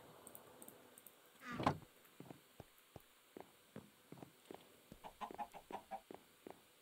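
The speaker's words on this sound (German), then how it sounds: "Na, du gackerndes Hühnchen." A chicken clucks in the video game Minecraft, a series of short, soft clucks and scuffs at a quiet level, with one louder burst early on and no voices.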